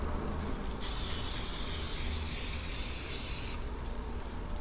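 A short hiss of cooking spray onto a hot griddle while Italian sausage, onions and peppers are being cooked, a steady airy spray lasting a few seconds over a constant background hum.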